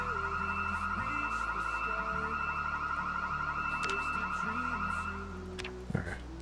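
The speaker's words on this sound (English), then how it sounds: "There's probably a way to turn off an alarm." A wailing electronic alarm siren in the zombie survival game Project Zomboid, looping its rising and falling tone loudly for about five seconds before cutting off, with low game sounds and a few clicks afterward.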